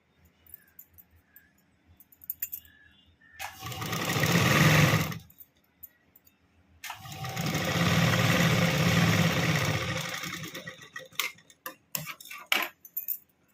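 Sewing machine stitching a fold on blouse fabric near a button placket, two sustained bursts of close rapid mechanical stitching separated by a pause, with small clicks and handling noises before and after.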